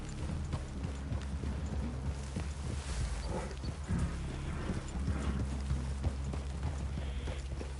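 Horse hooves clip-clop in a steady walking rhythm in the video game Red Dead Redemption 2, over a constant low rumble of ambient noise, with no voices.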